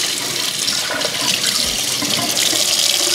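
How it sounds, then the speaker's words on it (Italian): Tap water running steadily over a reusable coffee capsule held beneath it, a loud continuous splashing hiss close by, with no voices. "Accendo l'acqua, lo passo sotto"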